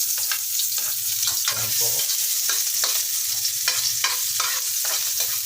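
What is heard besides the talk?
garlic being sautéed in a pan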